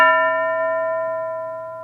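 A single bell strike rings out clear and close, its bright tone slowly fading across the clip with nothing else heard.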